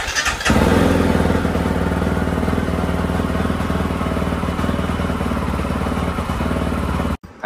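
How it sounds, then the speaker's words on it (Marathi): A motorcycle left unused for three weeks starts up and idles loudly nearby, its engine chugging with a rapid, even rhythm and some clatter, then cutting off abruptly just before the end. "तीन आठवड्यापासून बाईक चालू केली नाही आहे मी, होते का बघतो"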